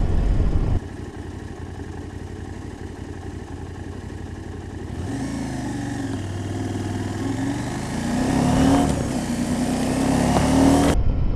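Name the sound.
KTM 790 Adventure motorcycle riding down bumpy lanes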